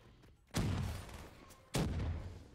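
Two sharp blasts of a grenade and gunfire in the Black Ops 3 Zombies video game, each a sudden loud boom with a decaying rumble, spaced about a second apart.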